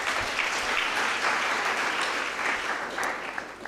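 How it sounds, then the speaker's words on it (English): A school audience applauds at a debate knockout result announcement between Mukaa Boys and Machakos School, a steady dense wash of clapping that holds at even loudness throughout without any talk over it. "let's give them a round of applause"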